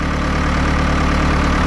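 A Ford 6610 tractor engine runs steadily at close range, a loud continuous diesel drone with a low rumbling throb and no pauses.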